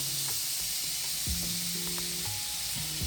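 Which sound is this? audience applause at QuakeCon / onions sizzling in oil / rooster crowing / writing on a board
onions sizzling in oil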